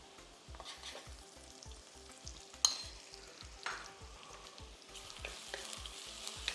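Ginger garlic paste frying in a pan for garlic kuzhambu, a steady soft sizzle broken by a rhythmic scrape of stirring about twice a second, with a sharp clank of utensil against pan near the middle.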